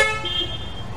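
Car horns honk repeatedly on a busy Toronto street in Bloor West in the summer of 2024, with one horn answering another. A steady hum of traffic runs underneath, and a bright sustained tone rises in the middle of the clip.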